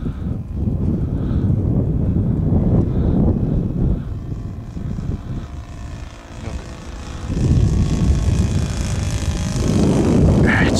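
A 1580mm H-King P-51B Mustang model plane powered by a Saito FA 62B glow engine makes a low flyby outdoors, its engine drone rising and falling as it passes at moderate distance.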